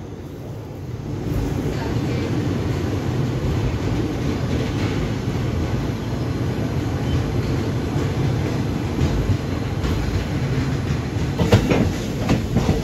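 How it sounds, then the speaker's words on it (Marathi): The Koyna Express travels from Kolhapur toward Pune with a Pune-division ALCO locomotive, giving a steady, loud rail rumble and rolling wheel noise throughout. Faint clacks rise near the end. "समोर दिसणारे पुणे डिव्हिजनचे अल्कोर लोकोमोटिव्ह आहे"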